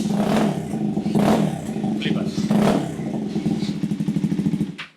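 A 2025 KTM 390 Adventure R motorcycle engine revs up and down several times up close, loud and throaty, ending in a quick sputtering idle before cutting off.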